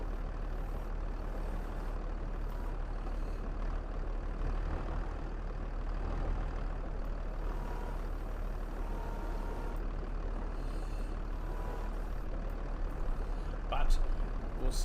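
A medium tractor engine in Farming Simulator 22 drones on steadily, a dense continuous rumble with no let-up, while a person talks over it.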